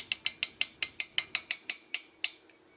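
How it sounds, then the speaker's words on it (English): An umbrella's ratcheting mechanism clicks about a dozen times in a quick, steady run, each snap crisp, close and loud, the last two spaced a little wider before it stops. "Here's the ratcheting mechanism."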